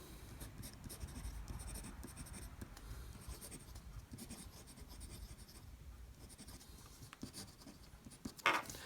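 A fountain pen writes on smooth Rhodia Heritage paper, giving a steady, close, soft scratching rasp that continues throughout, with a sharper scrape near the end.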